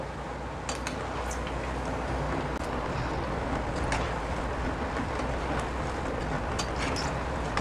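Rice pakoda made from leftover rice crackle steadily in hot frying oil, a dense, continuous sizzle heard close up with faint clicks scattered through it.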